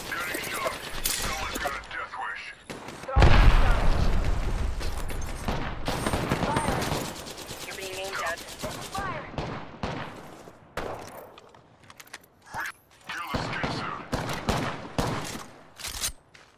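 Gunfire hits the player in Apex Legends: rapid bursts of shots and impacts crackle on and off, loud at moments, mixed with game effects and a person talking.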